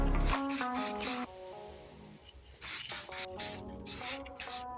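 A spray gun lays a light dust coat of paint onto an alloy wheel during a refurb, giving several close, loud hissing bursts with short pauses between them.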